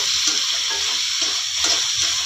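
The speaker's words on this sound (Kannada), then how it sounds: "ಚೆನ್ನಾಗಿ ಫ್ರೈ ಮಾಡ್ಕೊಳ್ಳೋಣ" Chopped tomatoes fry in a pan with a steady close sizzle and hiss, punctuated by a few soft stirring scrapes.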